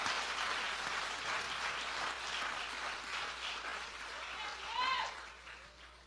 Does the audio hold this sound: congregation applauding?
yes